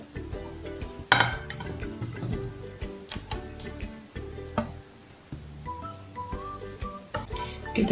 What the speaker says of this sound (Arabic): احنا هنحط القرنبيط او الشوفلاخ في صينيه تدخل الفرن